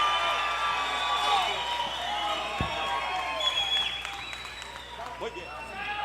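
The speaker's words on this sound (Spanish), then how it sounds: "fuerte el aplauso para Mateo" Crowd applause and scattered cheers for a performer at a tango night during a clothing and culture fair, clapping under music-like tones and some voices, easing slightly toward the end.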